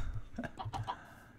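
Chickens cluck in a Minecraft modpack game, a quick run of four or five short clucks close by, fairly soft and alone without talk.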